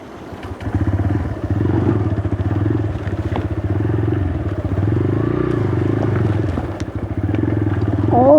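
A motorcycle jolts over rough ground with no road, its engine droning steadily and close alongside rattling and clattering; a voice speaks faintly in places.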